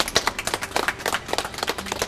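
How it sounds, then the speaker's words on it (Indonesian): An audience of women at a Surabaya community event applauds, a dense, lively patter of many hands clapping close and alone, with no talk over it. "Sekali lagi saya minta tepuk tangannya"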